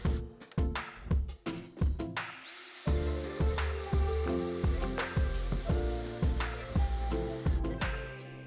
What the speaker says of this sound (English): You're going to use a drill. We're going to make pilot holes.